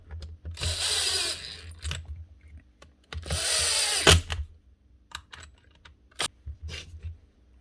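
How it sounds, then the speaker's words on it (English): A Makita SDS hammer drill under repair runs in two loud bursts of hammering and rattling, followed by scattered clicks and handling knocks of the tool. "Because this is an SDS drill, it's going to be hammering and rattling."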